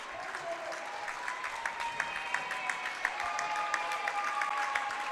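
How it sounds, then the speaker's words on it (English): Spectators applaud during a women's college basketball game between Contra Costa and Solano, a steady wash of clapping from the gym crowd with scattered sharp claps and faint announcer talk beneath. "Now she's going to get her round of applause here"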